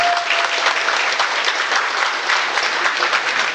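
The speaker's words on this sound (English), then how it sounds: "could we just have a massive group round of applause here?" A large crowd at an art gallery event gives a sustained round of applause, a dense, even wash of clapping that stays loud and unbroken throughout.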